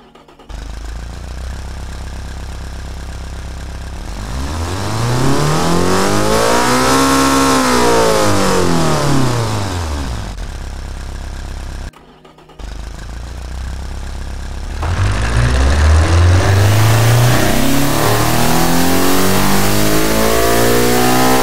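A car engine in the game Automation turns over, then revs up and down in a long sweeping arc, cuts off briefly, and starts again with a rising rev, loud and close, somewhat tractor-like.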